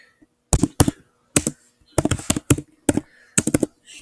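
An address is typed on a computer keyboard in short clattering bursts of keystrokes separated by brief pauses, close and distinct against an otherwise quiet room.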